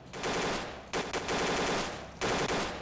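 Bursts of automatic enemy gunfire in the shooter STALKER Clear Sky, modded with Arsenal Overhaul, come in three loud rattling volleys separated by short pauses, with no talk over them.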